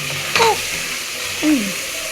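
Tomatoes sauté in hot oil in a pan, with a steady sizzling hiss throughout and two short scraping stirs of a spatula, close and fairly loud.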